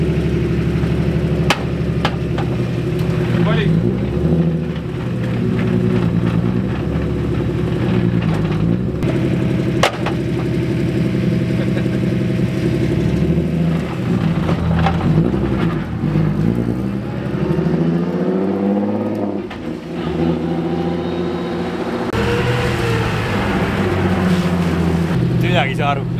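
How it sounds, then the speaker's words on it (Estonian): A car engine rumbles steadily for the whole stretch, with rough, irregular knocks and rattles that sound like something is broken. The engine stays loud and close throughout, with occasional sharper clanks over the drone and some voice mixed in. "autos on siuksed hääled nagu midagi katki. Uriiseb kõik."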